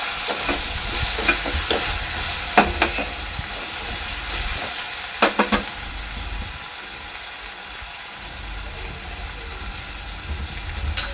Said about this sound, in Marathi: कांदा आहे ना चांगला लाल होईपर्यंत शिजवून घ्यायचा